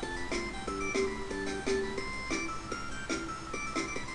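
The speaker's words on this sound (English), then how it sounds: "With the super happy music." Bright, cheerful looping music from the video game Tales of Destiny 2, with a bouncy repeating melody of short chime-like notes at a moderate level, no talking.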